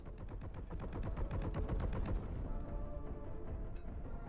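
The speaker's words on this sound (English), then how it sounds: "Heavy Hill Bolter is gonna get some mileage out of this. Non-stop barrage of heavy bolts." A heavy bolter in the game Warhammer 40K: Boltgun fires a rapid, evenly spaced burst of heavy shots for about two seconds. The gunfire then fades into a lower rumbling tail, all fairly quiet in the mix.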